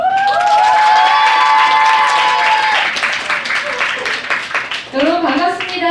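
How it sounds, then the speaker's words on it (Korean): Students at a Seoul high school revival service welcome a pastor with loud, sustained applause and cheering, mixed with shouting young voices and bright tonal sounds, until a voice begins speaking near the end. "앞으로 나올 때 큰 박수로 환영하도록 하겠습니다."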